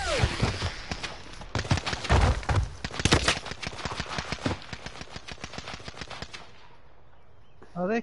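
Kilo assault rifle firing in an online shooter, long rapid automatic bursts with sharp regular cracks, loud and close, thinning into lighter shots before stopping, with a voice breaking in at the very end.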